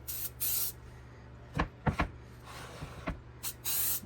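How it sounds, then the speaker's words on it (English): Baking nonstick spray hisses from a can into a pan in several short bursts, close and fairly loud, with a few knocks and clatters from handling the can and pan in between, and no talking. "before I get to the edges, I'm going to spray it again with nonstick."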